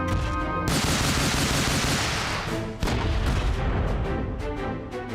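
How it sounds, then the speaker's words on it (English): Grenades burst during combat in the mecha game Front Mission 4. A dense, roaring blast fills several seconds, then cuts out briefly, then a second heavy rumbling wave follows. A few sharp cracks sound at the start. It is loud and close, with no voices. "Ugh, grenades. That's annoying"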